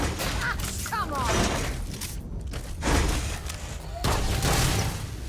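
Gunfire aimed at chicken robots in Starfield, with bursts of shots, thuds and shattering impacts arriving in clusters while a person talks over the fighting.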